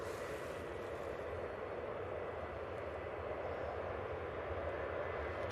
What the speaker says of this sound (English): Jill, is a fair few aircraft ready to go.